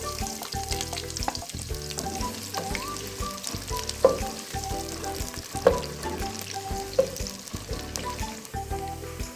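Chopped onions fry in hot ghee in a saucepan, giving a steady, close sizzle with a few sharper stirring clacks and scrapes. No one speaks.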